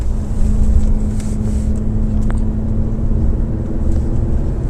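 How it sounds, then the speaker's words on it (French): Steady engine hum from a car during a driving lesson near Croix-en-Ternois, a continuous low drone with a constant tone, heard from inside the cabin with no talk. "D'ailleurs, on entend bien le bruit du moteur."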